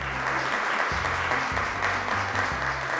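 Steady, dense applause from a studio audience at a television quiz show, cheering the contestants, loud and continuous throughout with no pause.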